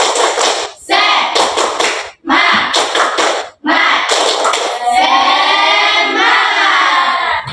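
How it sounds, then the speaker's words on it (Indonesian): A group of people claps together in a rhythmic spirit-clap pattern during a classroom lesson, loud bursts of hand claps broken by short pauses, then a longer sustained clapping run with mixed voices at the end. "Tepuk semangat"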